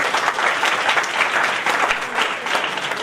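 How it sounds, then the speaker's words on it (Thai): An audience at a formal Honda partnership ceremony with Suphanburi Technical College in Thailand breaks into steady, dense applause, clapping close and fairly loud for a few seconds. "ขอเสียงประมือกับท่านด้วย"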